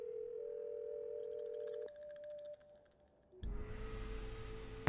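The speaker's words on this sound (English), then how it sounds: "Can I call Franklin Rose, do you think" Telephone dial tone from the Nancy Drew game Secret of the Scarlet Hand holds as a steady clear hum and then cuts off abruptly, followed by a short quiet gap and a louder line noise as the call connects.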